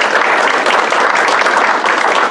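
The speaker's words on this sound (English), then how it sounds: "Let's give Christopher a round of applause." Loud, dense clapping from an audience at a career and technical education letter-of-intent signing day, close and continuous throughout the short burst.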